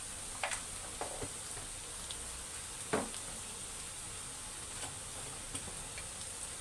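Coriander powder fries in a pan with a low, steady sizzle, punctuated by scattered light clicks and ticks of a spoon against the pan.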